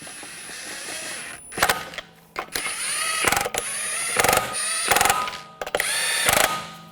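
Lug nuts run onto a Buick Encore wheel with a ratchet or power tool, heard as several loud whirring and rattling bursts of a second or less, separated by short pauses, close up and with no talking.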